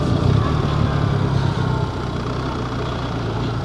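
A 2025 BMW R1300 GS motorcycle engine runs steadily during a winter countryside ride on snow-covered roads, a continuous close rumble that eases slightly partway through, with no talking.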